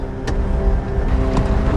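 A car rolls along with a steady low engine and road rumble, a couple of brief thumps or clicks on top, and no voices.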